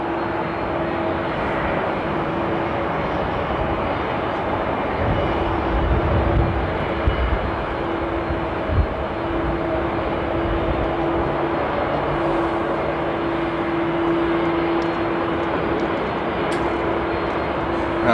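A KLM airliner at Amsterdam Airport roars past with a steady, loud broadband engine rumble and a sustained whine, heard from a spotting position with no talk over it.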